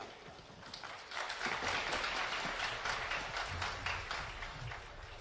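An audience claps at a Hindi spiritual discourse: a steady, dense patter of many hands, rising after a second and continuing to the end, with no talk over it.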